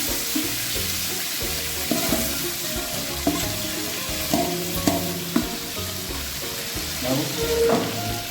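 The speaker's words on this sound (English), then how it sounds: "Add the onion." Onion goes into hot oil with cloves, cinnamon and poppy seeds for South Indian coconut rice, sizzling steadily and loudly while a utensil stirs and scrapes in a regular rhythm.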